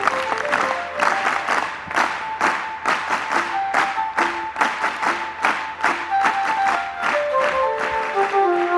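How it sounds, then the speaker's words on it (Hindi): An audience at a gurukul claps in rhythmic unison to welcome the Governor of Gujarat, with sustained musical tones running beneath the steady beat. "आइए एक बार 3 ताली वादन से राज्यपाल जी का स्वागत करते हैं।"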